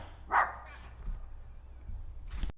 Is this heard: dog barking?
yes